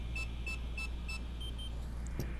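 A series of evenly spaced short electronic beeps from DJI FPV goggles as the bind button is pressed, four clear beeps then fainter ones over a steady low hum, followed by a brief click.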